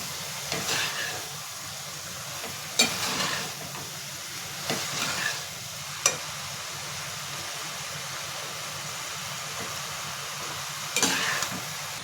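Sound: stirring cooked rice into mushroom fry in pan

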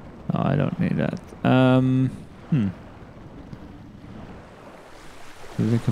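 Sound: flowing water in Tomb Raider Anniversary video game

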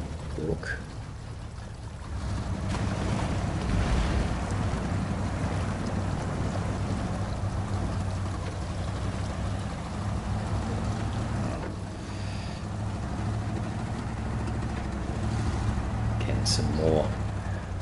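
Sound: truck crossing a babbling brook in SnowRunner video game

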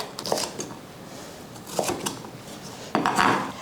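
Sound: chopping red bell pepper into cubes

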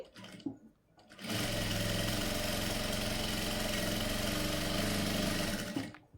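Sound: sewing machine stitching blouse front part darts

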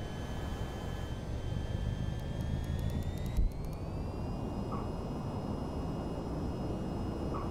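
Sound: aircraft engine at takeoff in video game VTOL VR

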